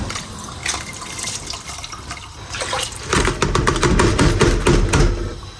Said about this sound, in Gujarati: હવે આપણે નાખીશું એમાં ચોખા. હવે આ જાય છે પાણીમાં.